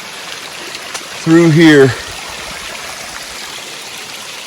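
A stream of water flows steadily through weedy underbrush near old apple trees, a constant close rushing wash heard throughout, with someone briefly talking over it.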